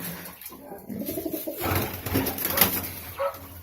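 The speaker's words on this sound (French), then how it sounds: "Voilà les beaux petits pigeons pans." Fantail pigeons coo close by in a soft, rolling series early on, then a rustling, splashy stretch follows as a voice speaks lightly in the background.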